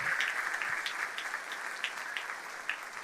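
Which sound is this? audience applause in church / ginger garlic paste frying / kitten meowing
audience applause in church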